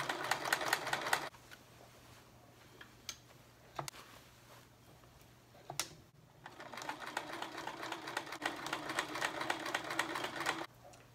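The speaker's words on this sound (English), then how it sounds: "always leave the needle in the fabric as you're turning the fabric" Sewing machine stitching a denim Christmas pillow cover with fabric tree cutouts, rapid close rattling runs that stop for pauses and single clicks, then resume for a longer stretch.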